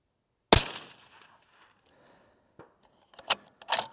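A 25GT rifle firing a 134gr Hornady ELD round lets off one sharp, loud report followed by a short decaying ring, with a few smaller clicks and clatters of handling afterwards.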